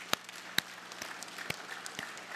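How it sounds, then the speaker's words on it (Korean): A church congregation claps for a New Year's Eve worship service, a brief patter of scattered applause with a few sharp individual claps standing out, moderately distant in a large room. "하나님께 영광의 박수를 올리겠습니다"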